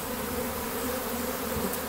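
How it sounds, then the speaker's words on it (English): A swarm of honey bees gathering in a backyard gives a dense, continuous buzzing hum, steady and fairly close, with no voices over it. "look where the bees are gathering now"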